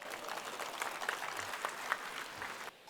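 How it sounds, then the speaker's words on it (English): A round of applause from an audience welcoming a guest at a formal function, a steady, faint wash of clapping from a distance that cuts off near the end. "please welcome him with a round of applause"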